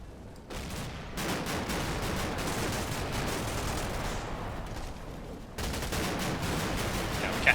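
Mark 19 grenade launcher rounds fired from a Humvee in a snowy wargame battle, a dense, sustained rumble of automatic fire and blasts that drops briefly then resumes, steady and fairly loud with no voices.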